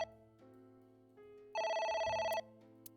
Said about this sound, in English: The phone's back. It's ringing again.